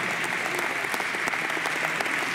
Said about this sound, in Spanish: ¡Apa, un aplauso para ellos!